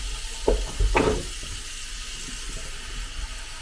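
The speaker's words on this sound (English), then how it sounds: "I'll put some water in the sink." Tap water running into a hotel bathroom sink, a brief noisy gush with a couple of short splashy bursts in the first second, then a steady soft hiss for a few seconds.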